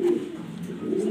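One brief, low coo from a black Danish pigeon, close and clear.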